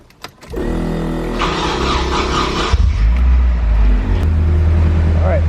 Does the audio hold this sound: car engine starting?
yes